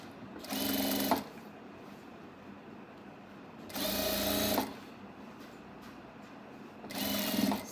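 Three separate short bursts of a sewing machine stitching telekung fabric, each lasting about a second, with quiet pauses between them and no voices.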